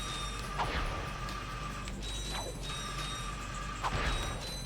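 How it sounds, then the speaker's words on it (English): Wrench strikes on mines in the PS2 game Ratchet & Clank, three metallic swooshing hits spaced about every second and a half over a steady electronic hum. "I'm hitting the mines with my wrench"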